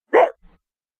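A person imitates a dog with one short, loud bark-like yelp followed by a faint low grunt, then silence.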